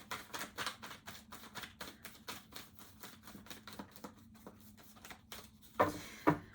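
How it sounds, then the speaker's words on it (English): Tarot cards being shuffled by hand, a rapid run of crisp, close riffling taps in an even rhythm, ending with a few louder handling clicks. "This is just a shuffle."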